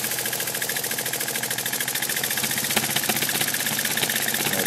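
A PM Research 2A twin engine ticks over slowly during break-in, giving an even, rapid chuffing rhythm up close that stays steady throughout.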